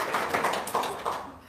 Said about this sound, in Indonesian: Saya tepuk tangan dong.